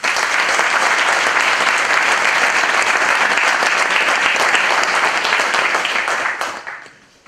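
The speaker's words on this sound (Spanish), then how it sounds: "Fuertes aplausos." Loud, sustained applause from an audience at a Navarrese jota competition, a dense steady clatter of many hands that fades out near the end.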